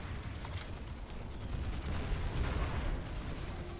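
Dense, continuous gunfire and blasts in the sci-fi shooter Planetside 2, a decimator weapon among them, roaring loud and unbroken with no talk over it.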